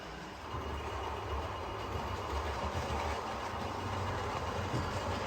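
A model railway branch line with a locomotive hauling carriages produces a steady, close rolling rumble, with a faint rhythmic clatter of wheels on track running throughout and no talk.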